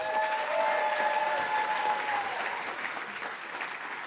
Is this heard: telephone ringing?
no